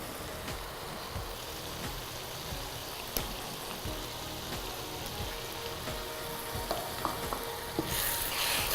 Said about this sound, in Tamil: இப்போ அடுத்து இஞ்சி பூண்டு பேஸ்ட் போட்டுக்கலாம்.